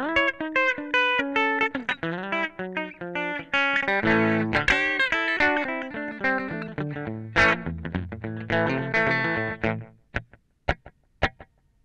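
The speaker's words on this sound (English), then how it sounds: "So down the bottom there's like a slap echo." An electric guitar played through a Sonicake amp with a short slap echo delay, distorted notes and chords each followed by a quick repeat, loud and close for about ten seconds before a few sparse plucked notes ring out alone.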